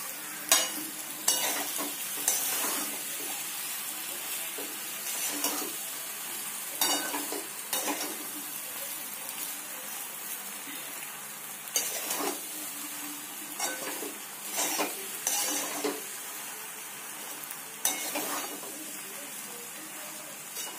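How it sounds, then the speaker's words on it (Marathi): Desi-style pasta tossed with Indian spices in a frying pan gives a constant sizzling hiss, while a spoon stirs and scrapes against the metal in irregular bursts, with no voices. "हे सर्व मसाले मिक्स करून घेऊया पास्त्यामध्ये आपण"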